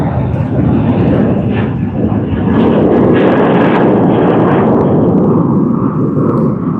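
Jet engines of a Qantas Airbus A330 at Sydney Airport rumble in a loud, deep, rolling roar that swells and wavers, with voices in the background.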